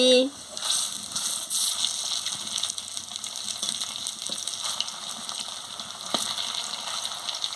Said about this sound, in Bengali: লাল লাল করে ভাজা হয়ে গেছে, আমি এবারে এক এক করে তুলে নিচ্ছি